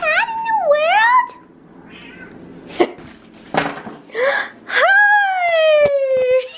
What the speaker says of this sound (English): Oh, my favorite cat in the world?